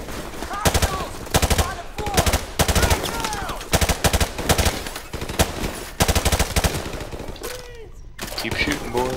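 Automatic weapons fire in the Call of Duty: Modern Warfare Remastered campaign, loud rapid bursts repeating across the scene with brief gaps, mixed with game voices and effects.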